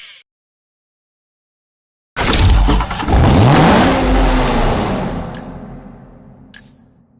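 Lamborghini Murcielago LP670-4 Super Veloce in Need for Speed Hot Pursuit bursts to life after a short silence, revving hard with a rising then falling engine note, loud and close, before easing off.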